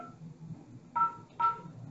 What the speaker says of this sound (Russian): С 2000 телефона звоним на 2001